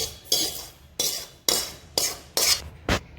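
Roasted semolina (rava) scraped out of a kadhai onto a plate, heard as about six separate close scraping strokes of a spoon against the pan with short pauses between them and no talk.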